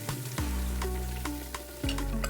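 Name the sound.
spices and duck curry sizzling in a pot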